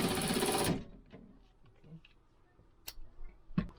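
A Milwaukee M12 FUEL 1/2-inch cordless ratchet gives a brief, loud, buzzing motor burst that cuts off abruptly, followed by quiet clicks and a few sharp mechanical taps.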